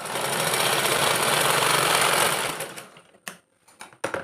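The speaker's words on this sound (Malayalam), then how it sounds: "ഒരു സ്റ്റിച്ചും കൂടെ ആ ഒരു ജിബിൻ്റെ മുകളിലോട്ടായിട്ട് വെച്ച് കൊടുക്കാം" A sewing machine stitches a pencil pouch's lining over its zipper, running loud and steady for about two and a half seconds before slowing into a few short bursts; no one speaks.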